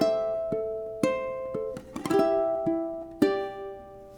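A ukulele plays bar 2 of Canon in D: plucked notes ring out one at a time at a steady, unhurried pace, with a brief cluster of quick picks in the middle, close and clear with no talking.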